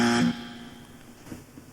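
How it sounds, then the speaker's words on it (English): A quiz show wrong-answer buzzer gives a short, loud, harsh tone that cuts off abruptly, followed by a quiet room. "A loud buzzing sound there"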